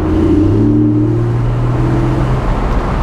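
A Porsche 718 Boxster GTS 4.0 engine revs up through its range, a loud, steady engine tone climbing and sustaining before easing off, close and without talk.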